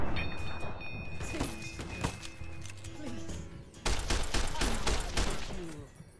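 Rifle gunfire in Fallout: New Vegas, with bursts of sharp shots and thuds that stop for a moment and then return in a dense, loud volley over music-like tones.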